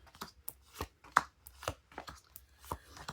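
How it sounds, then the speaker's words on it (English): Tarot cards being shuffled by hand, a run of crisp irregular riffles and taps in quick bursts, fairly close and with no talking. "Sorry, I'm moving off camera to do the shuffling."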